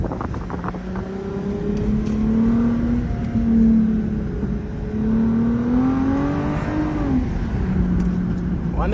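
A straight-piped Lexus IS350 drones loudly while driving through city streets, its exhaust note rising and falling as the engine revs up and eases off.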